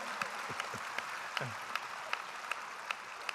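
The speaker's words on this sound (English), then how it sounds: "let's give the Jets a big round of applause" Memorial ceremony audience clapping for the Jets hockey team, a soft, even patter of applause with a few distinct nearby claps and a brief voice near the start.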